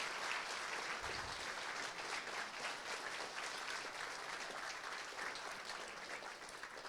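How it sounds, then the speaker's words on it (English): Audience applause at a game jam, a sustained wash of many hands clapping at moderate distance, steady and even throughout without talk over it. "can we have a big round of applause for everyone that's shown the game so far?"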